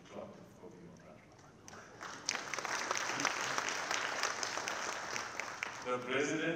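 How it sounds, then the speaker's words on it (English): Audience applause at an African Union Commission bid launch event, clapping that starts thin and swells into a fuller round of many hands after a couple of seconds, with some speech in the background. "you will clap for me on that."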